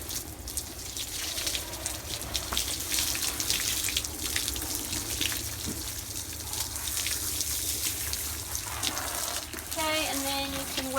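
Water sprays steadily from a hose onto a horse, a continuous broadband hiss that holds for the whole stretch, with brief tonal squeaks or a horse's sound near the end.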